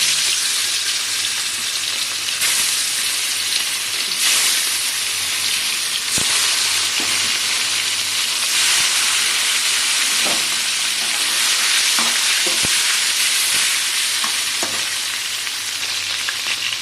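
Salted, turmeric-rubbed chicken pieces fry in oil, a loud continuous sizzle with occasional sharp pops and stirring clicks, no voices over it.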